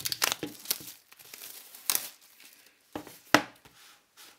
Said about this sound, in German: In der Zeit werde ich die Folie entfernen.